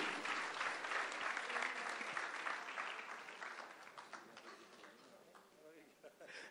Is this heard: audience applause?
yes